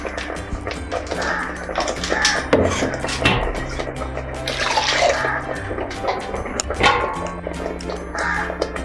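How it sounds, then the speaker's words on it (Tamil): Water splashes and gurgles into a pot of mutton intestine curry, mixed with scattered wooden knocks and clatter, steady and close throughout with no one speaking. "தண்ணி ஆட் பண்ணிக்கலாம்."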